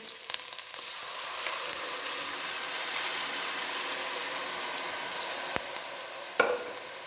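Ground yogurt hits a hot tempering with bay leaves in a kadhi pot, giving a steady, bright sizzle that fills the whole stretch, with a few small clinks and a brief stir near the end.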